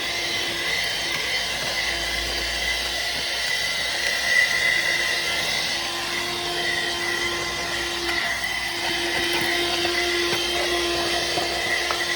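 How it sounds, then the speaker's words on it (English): A vacuum cleaner runs continuously while cleaning out a car, a loud steady whine and rushing airflow lasting the whole stretch with only slight shifts in pitch and no talking. "I've had this vacuum ever since I had Jackie too"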